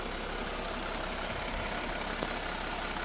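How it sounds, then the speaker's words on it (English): A Jeep Wrangler 3.6L engine idles after a full reassembly with a new camshaft, a faint, steady hum with no talking. "I got the engine running."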